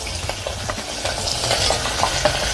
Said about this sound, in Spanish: vamos a comenzar a sellar las costillas en la ollita. Oigan eso, perfecto.